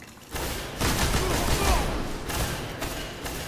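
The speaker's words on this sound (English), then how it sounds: "Machine guns, man." Sustained automatic gunfire from a match in the Destiny Crucible video game, a dense continuous rattle with a brief pause before it, loud and close in the game mix.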